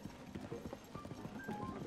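A horse's hooves clip-clop in a steady trotting rhythm in Zelda: Tears of the Kingdom, quiet and distant, with faint game tones.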